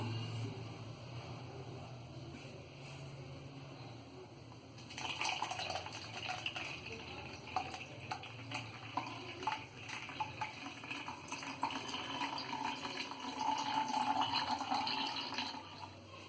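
Blended carrot juice is strained and pours and trickles steadily into a container, close by. The liquid flow starts partway through and grows slightly louder toward the end.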